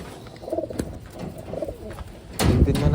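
Taiwan pigeons coo in repeated soft, throaty phrases close by, over a steady background hum, with a louder rustle of movement near the end.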